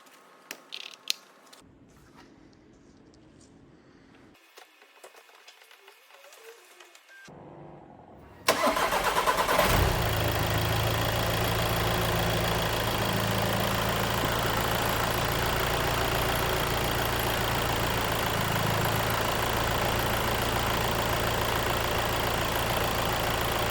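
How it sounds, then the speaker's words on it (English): A 2017 VW Tiguan 2.0 TDI diesel engine cranks and fires after a few quiet seconds of faint shuffling, then settles into a steady, loud, close idle with a constant low rumble. "I'm just going to start the engine and just run it for literally 10 seconds"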